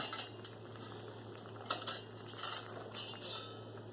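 Metal steamer basket lifted out of a pot of cooked broccoli, with several light clinks and scrapes of metal on metal over a steady low hum, close by.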